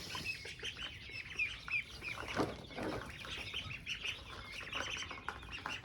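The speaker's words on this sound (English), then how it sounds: "Chickens. There's ducks in there too." A flock of hungry chickens and ducks clucks and chatters continuously nearby before feeding, with occasional wing flaps and chirps mixed in.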